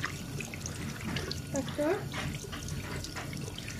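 Tap water runs and splashes while hands are rinsed at a sink, a steady soft trickle under a person talking nearby.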